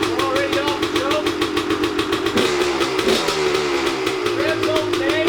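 An old dirt bike engine running too rich, loud and close, idles with a rapid putter, then revs up briefly before settling back to a rough idle.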